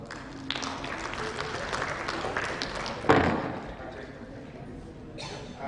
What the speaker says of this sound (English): Mr. Wonderwall, a round of applause for him.